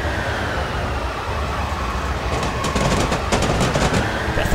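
Steady rumbling train running in the Train Simulator 2013 game, with continuous rolling rail noise and faint clicking of wheels over track joints, fairly loud and unbroken throughout.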